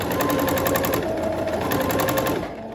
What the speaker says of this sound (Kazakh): Тігіп жатып, закрепка жасайтын болсам, осыны баса қоямын, мінекей.